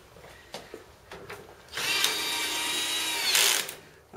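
Power tool driving and tightening bolts on a Euro guest bed frame during assembly; a few faint knocks lead into a loud, close whirring burst of about two seconds that rises briefly at the end.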